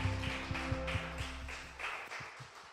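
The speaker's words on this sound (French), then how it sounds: "Est-ce qu'on peut applaudir les mamans ce matin?" Clapping at a Sunday church service for Mother's Day, a dense run of handclaps over a low sustained organ or music tone that thins out toward the end.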